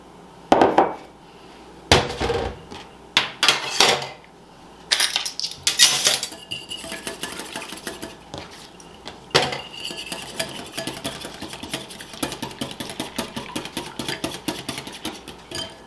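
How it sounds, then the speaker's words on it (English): A whisk clinks and rattles against a mixing bowl as vegetable oil is beaten into blueberry muffin batter, loud irregular metallic taps and scrapes giving way to a steadier fast stirring rhythm, with no talking. "There is 1/4 cup of vegetable oil. Let's whisk that in."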